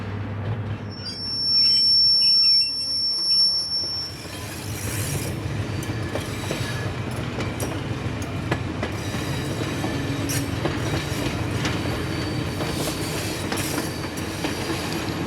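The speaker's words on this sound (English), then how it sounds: "the train gets going again" A train rolls along railway tracks, a loud continuous rumble of wheels on rails with clattering and some high metallic squeal at the start, steady and close with no voices.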